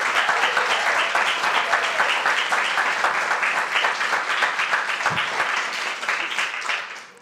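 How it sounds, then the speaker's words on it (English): Warm, continuous applause from an audience at a children's talks event, dense and even for several seconds before tapering off at the end. "Big round of applause for them."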